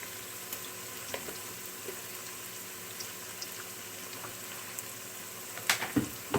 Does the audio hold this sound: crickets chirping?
no